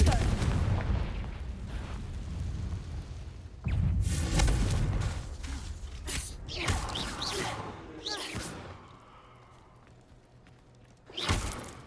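The Confringo blasting curse in Hogwarts Legacy erupts in a series of loud fiery explosions and crackling bursts, several booms spread across the span with a final blast near the end, mixed with a voice talking.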